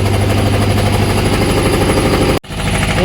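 A concrete mixer runs during slab pouring for a house, a loud continuous mechanical drone with a steady low engine rumble that cuts out abruptly near the end before resuming.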